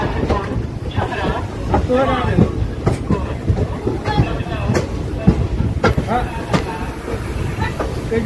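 Ganga Sagar Express sleeper train pulling out of Samastipur Junction at departure, with steady rumbling and rattling of the coach and intermittent clanks, while people talk nearby over the continuous rail noise.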